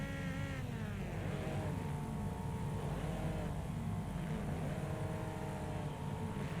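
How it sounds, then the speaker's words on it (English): Race car engines in Wreckfest, a Trans-Am series race at Motor City, drone and rev together in a loud, continuous roar with rising and falling pitch sweeps. "Engines are revving."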